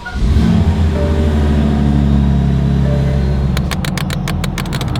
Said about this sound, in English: let's go out and give it some rips and see how this thing sounds